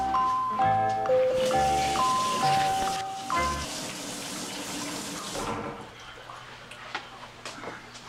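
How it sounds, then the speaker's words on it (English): A kitchen tap runs as hands are rinsed, a broad rushing water stream under a few bright musical tones at first, then cutting off and leaving faint clatter. "Let me go rinse my hands."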